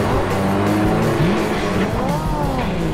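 A cartoon motorbike race roars along with a loud, close engine drone whose pitch bends and wavers, plus brief tire-squeal-like swoops, running steadily for a few seconds.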